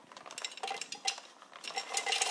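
Peanuts being poured into a container while making crunchy peanut butter at home, a quiet rattling, clinking patter of small hard nuts tumbling in irregular bursts.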